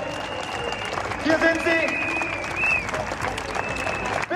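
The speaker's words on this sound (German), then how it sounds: "Ich möchte jetzt, wie es gewohnt ist, einen riesen Applaus haben für Menschen in Uniform" A large outdoor crowd at a Berlin Querdenken demonstration applauds steadily, with a continuous roar of clapping, whistles and shouts, while a voice speaks over it.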